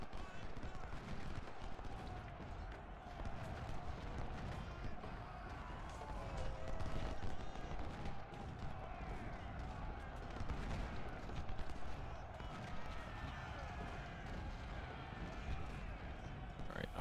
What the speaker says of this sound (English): Really strong volleys there.